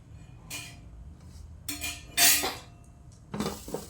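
Grated coconut being dry-roasted in a pan for kheer: a few separate metallic scrapes and clinks of a spoon against the pan, short and close, with quiet gaps between them and no talking.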